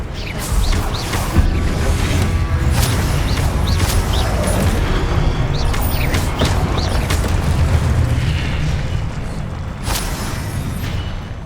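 Confringo spell explosions in the video game Hogwarts Legacy: loud repeated booms and crashes over a dense rumbling battle bed, with whooshes and sharp cracks scattered across the stretch.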